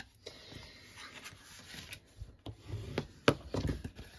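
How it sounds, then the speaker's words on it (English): A tool rubs firmly along a scored paper fold line, giving a few soft, brief scraping strokes that are close and quiet, with a sharper scrape near the end. "It's always easier to burnish before you cut"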